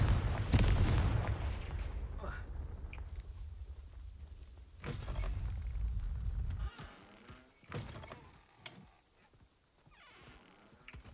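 Confringo fire spell blasts in Hogwarts Legacy, a heavy booming explosion up front followed by several sharper thuds and impacts that fade into quieter rumbles.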